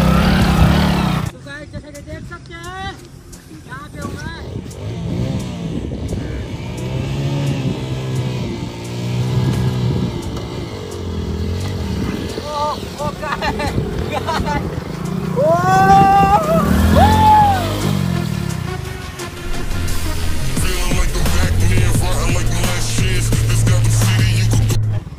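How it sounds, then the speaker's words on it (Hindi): A car drives fast over banana peels on a road, its engine rising and holding a strong steady roar with some revving, while someone talks over it. "जैसे कि आपने देखा हमारा गाड़ा कम से कम 50 से प्लस ही था"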